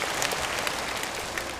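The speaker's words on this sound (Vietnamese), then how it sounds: "vỗ tay cho thầy đi" Steady, dense applause from a theater audience at a live Vietnamese chèo comedy show, continuous and fairly even throughout, with no voices over it.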